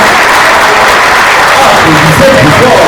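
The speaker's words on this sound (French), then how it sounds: "Applaudissez plus fort, s'il vous plaît." Loud, dense crowd applause fills a Ngond'a Sawa gala hall in Montréal, a steady wall of clapping with a voice calling out over it toward the end.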